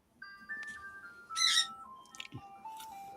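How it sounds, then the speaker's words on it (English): An ice cream truck rolls past playing its tinkling melody, a thin tune of steady electronic notes drifting at moderate distance with a brief brighter burst midway. "The creeper and the ice cream truck just rolled by."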